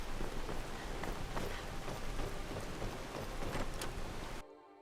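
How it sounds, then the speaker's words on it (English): Heavy rain in the Skyrim Special Edition video game, a loud dense steady hiss of falling water with scattered sharper drops, cutting off abruptly near the end. "Audio's fine even with the rain being that loud."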